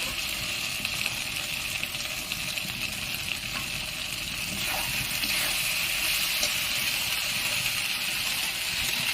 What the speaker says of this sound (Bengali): জলটা এটাই দিয়ে নেব দিয়ে ভালো করে নেড়ে নেব